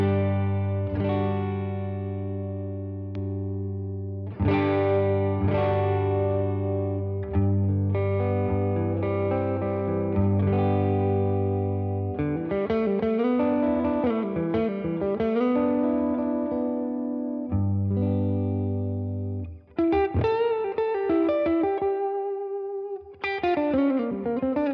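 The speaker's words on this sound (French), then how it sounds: "je vous propose d'écouter ce que nous donne cette pédale sans backing track" Electric guitar through an Anasounds Sandman overdrive pedal, played alone with no backing track: sustained overdriven chords and melodic lines with ringing decay, loud and close, shifting between held voicings and busier phrases.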